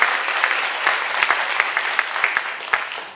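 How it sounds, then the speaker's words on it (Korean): An audience at a forum on North and South Korean textbooks applauds warmly, a dense, sustained clapping with sharp individual claps standing out, fairly loud and close throughout. "다시 한번 뜨거운 박수 부탁드립니다."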